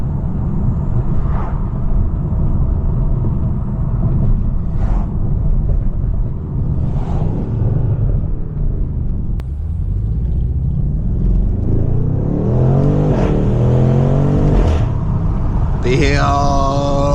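A BMW M550i with an xHP flash tune and no other modifications idles with a low rumble, then revs up in rising sweeps toward the end, heard close and loud.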